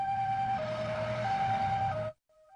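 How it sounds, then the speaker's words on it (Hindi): An ambulance siren wails steadily in a two-tone pattern, loud and close, with rumbling traffic beneath it, then cuts off abruptly near the end. "एम्बुलेंस की आवाज।"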